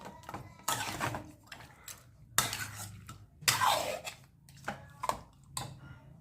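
Yogurt being stirred into a chicken biryani mixture in a pot, with repeated scraping and clinking of a spoon against the vessel in irregular bursts, close by, with occasional faint voice sounds.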